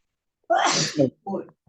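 A loud, close sneeze bursting out suddenly, followed by a brief vocal trailing sound, in an otherwise quiet space.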